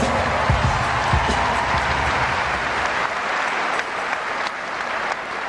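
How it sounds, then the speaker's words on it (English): Large arena crowd at the 2011 World Netball Championships final applauding the umpires, sustained loud clapping from a big audience with some cheering mixed in, continuous for the whole stretch. "A big round of applause, ladies and gentlemen, to all the umpires at these World Championships."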